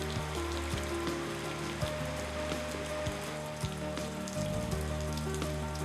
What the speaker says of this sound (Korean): 잔뜩 흐렸던 하늘이 결국 비를 뿌립니다.